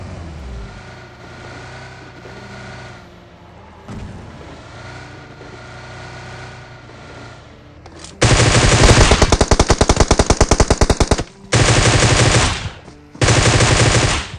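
Loud, near automatic gunfire from an M4 rifle in PUBG Mobile at Georgopol, arriving as three sustained bursts after a quieter stretch of game ambience and rumble.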